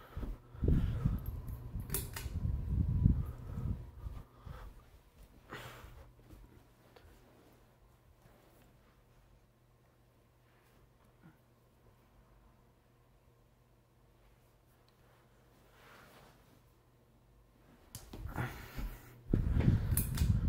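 A 42-inch Hampton Bay Littleton ceiling fan runs with a faint steady low hum and soft airy whir throughout, with louder bumps and handling noise near the start and end.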